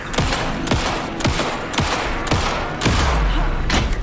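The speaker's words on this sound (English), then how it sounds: "Anderson, pin him down with gunfire for me to get the light on him" Rapid, heavy bursts of gunfire in the video game Alan Wake II crack one after another in a steady, loud barrage, each shot followed by a low booming tail.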